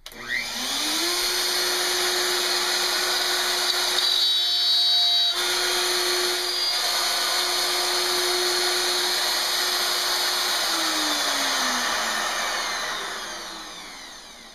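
A Festool router cuts a groove along a door. The high motor whine spins up, holds a steady, loud, continuous tone with a brief dip partway through, then winds down at the end.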